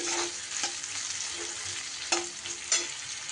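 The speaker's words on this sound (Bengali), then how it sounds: "পেঁয়াজটা যখন আমার এইভাবে ভাজা ভাজা হয়ে যাবে" Chopped onions sizzle gently in a pan, with a few sharp scrapes of a spatula stirring them.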